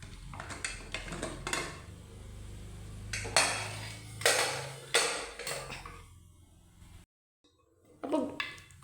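A pressure cooker of mutton gravy, switched off after five whistles, is opened with metallic clanks, lid scrapes and pot clatter, several sharp hits spread out with a brief quiet gap.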